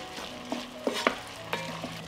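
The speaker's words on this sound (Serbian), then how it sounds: "nastavit ću da pržim dok paprika i paradajz ne omekšaju" Onion, sweet pepper and tomato fry in a pan while a utensil stirs them: a soft, continuous sizzle under several distinct scraping strokes spaced irregularly about half a second apart, close and quiet, with no voices.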